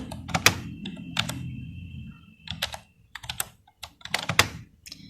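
Typing on a computer keyboard while entering C code, bursts of close, crisp key clicks separated by brief pauses, no talking.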